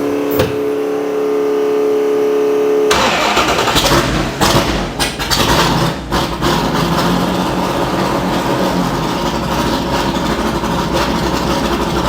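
Ford GT40 engine warming up at idle after starting, with a steady, loud, dense mechanical rumble and a slightly uneven, misfiring beat. It runs on without pause, close to the microphone, and no one speaks.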